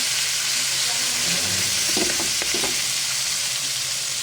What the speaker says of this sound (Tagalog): Lagyan na natin ang ating giniling. Haluin.